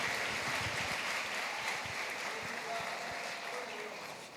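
A church congregation claps during a Spanish-language sermon, a continuous mass of applause fairly distant and soft, fading gradually, with faint voices mixed underneath.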